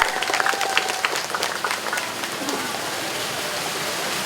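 A crowd at an outdoor street pedestrian-walkway inauguration claps for the DBMP public works office, loud and dense at first, then thinning into a steady hiss-like wash of scattered clapping.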